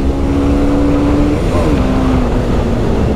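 A BMW motorcycle ridden fast: a steady engine drone whose pitch dips and shifts midway, sitting under heavy wind rush that fills the whole stretch.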